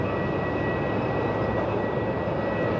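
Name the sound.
airliner arriving at Melbourne Airport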